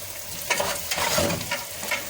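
Vegetables for Egyptian eggah frying in oil, a close, continuous crackling sizzle with bursts of louder spitting throughout.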